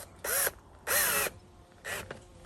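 A drill whirs in three short bursts, each spinning up to a whine and stopping, with brief pauses between.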